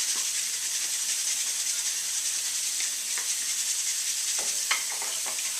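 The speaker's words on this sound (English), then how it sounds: "it's easier and best to go around the outside first, to the outside edge, and rinse as you're going around the outside edge" Juicer screens rinsed under a running kitchen tap, a steady broad hiss of flowing water with faint clicks and knocks of handling, no voices.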